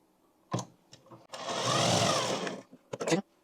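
Sewing machine running a strong double seam on a salwar, joining it at the seat section, one sustained burst of stitching lasting about a second, with short bumps and a voice-like sound before and after.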